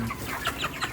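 Broiler chickens about 33 days old cluck and chatter in a dense, continuous flock noise on a farm during a harvest day, with no talk over it.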